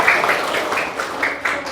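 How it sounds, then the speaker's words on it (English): A classroom group claps hands together in a steady rapid patter, close and fairly loud, with no voices over it. "Okay, clap your hand."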